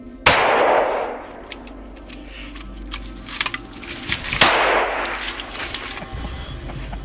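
Two loud gunshots from hunters fired outdoors about four seconds apart, each a sharp crack with a decaying echo, amid low rumble and scattered clanks.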